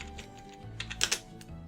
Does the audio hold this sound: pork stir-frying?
no